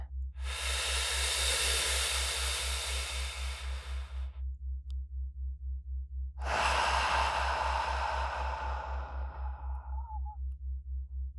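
A slow, deep breath drawn in through the airways during a guided hypnosis session, held in a short silence, then released in a long, softening exhale; close and intimate, with no talking, over a low steady hum.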